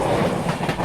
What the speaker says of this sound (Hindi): ये निकल गई भाई, इंटरसिटी एक्सप्रेस।